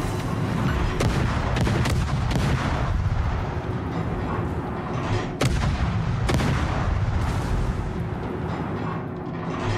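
Ship guns fire in a World of Warships naval battle, with heavy artillery booms repeating at irregular intervals over a dense, loud, rumbling battle din.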